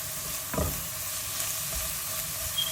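Green chili and curry leaves sizzle in hot oil for a spinach fry tempering, a steady soft crackle with a few scrapes of stirring, close and alone.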